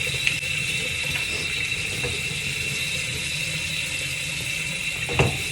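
A bathroom tap runs steadily while teeth are brushed, a constant hiss of flowing water close by, with a brief clatter near the end and no talking.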